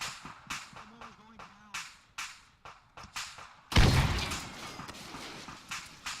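A frag grenade detonates in a squad-based military shooter, a sudden loud boom with a deep low rumble cutting through nearby footsteps and game noise, then a decaying tail with players talking before and after.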